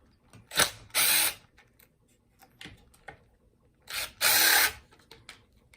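Power driver with a 5 mm hex bit backing screws out of the plastic side fairing on an X7/X8 electric scooter: two close, loud whirring bursts, each preceded by a short rev, with faint clicks and handling noise between.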